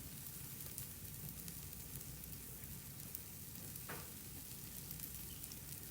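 Zucchini burgers fry in a pan, browning on each side, with a constant, even sizzle that stays quiet and uninterrupted and carries no talking.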